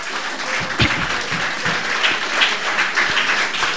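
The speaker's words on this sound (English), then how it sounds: "I want you to give him a round of applause to me, please" Applause from a crowd at a Saint Lucia Labour Party town hall meeting in St. Jude, a steady, dense patter of many hands clapping that holds evenly throughout with no talk over it.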